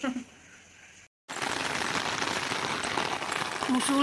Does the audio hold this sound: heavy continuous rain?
yes